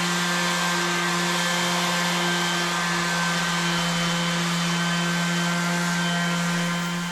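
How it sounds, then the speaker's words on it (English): A power sander whines steadily at close range while sanding down a post-WW2 sailboat, a loud constant motor hum with a fixed pitch that runs unbroken and fades slightly at the end. "Yep, lots of sanding,"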